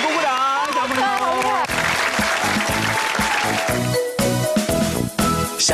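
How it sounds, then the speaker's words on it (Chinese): Young children at a kids' television magic show clap for themselves, a rhythmic burst of close claps rising under cheerful adult voices and background music. "来为自己鼓鼓掌，小朋友"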